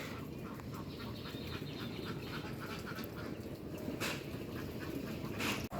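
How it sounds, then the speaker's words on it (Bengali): Ducks quacking amid a mixed flock of ducks and chickens, a busy mid-distance chorus of overlapping quacks and calls that runs throughout, with no talk. "দেখো সবাই কত হাঁস মুরগি একসাথে হয়েছে"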